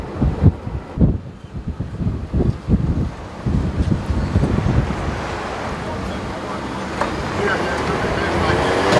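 Wind on a windy day buffets the microphone in loud, uneven gusts and rumbles, with a speaking voice over the first half before a steadier roar takes over.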